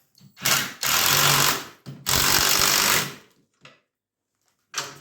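A power tool runs in two loud sustained bursts with a short gap between them, then a brief final burst, as it drives bolts on the carburetors of a 1997 Vmax 500 snowmobile.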